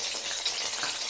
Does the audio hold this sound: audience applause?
no